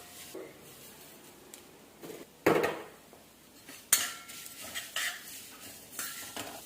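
Vermicelli being roasted in a pan over a low gas flame, with soft scraping and stirring against the pan, a few sharper clinks of a utensil, and a faint sizzle underneath, all at close range.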